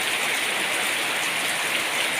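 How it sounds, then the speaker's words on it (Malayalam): Heavy rain pours down steadily in an area of trees and banana plants, a dense, even hiss that stays constant throughout without any talk. "നല്ല മഴയാണ്, നല്ല മഴയാണ്, അടിപൊളി മഴ."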